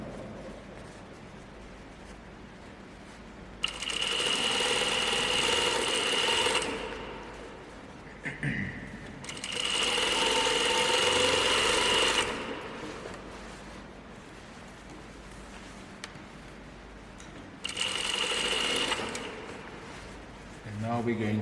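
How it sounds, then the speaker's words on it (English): A sewing machine stitches a button-up shirt in three sustained runs, each a loud, steady whirring hum lasting a few seconds. A person talks in the pauses between runs. "Now we're going to sew over the, or at least at the end of the armhole."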